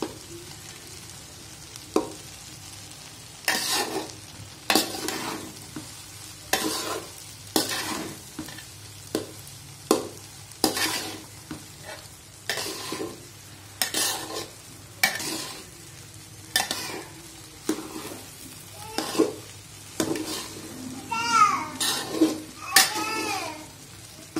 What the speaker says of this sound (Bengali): রাইস আর সবজি খুব ভালো করে মেশাতে হবে।